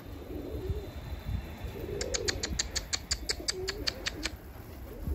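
Pigeons coo in low, throaty phrases, repeated in soft bursts, while a rapid series of sharp clicks or taps sounds midway; steady outdoor background, no talking.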